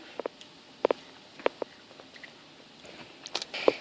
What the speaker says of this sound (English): I call it girl eating tuna patty.